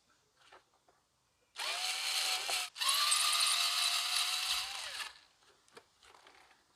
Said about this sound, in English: or at least another bolt that needs to be turned.